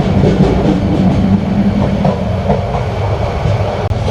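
A loud, continuous rumble of the Subarna Express passing Akhaura Junction, heard from the guard's seat inside the train, with rattling wheel noise and a sharp clunk near the end.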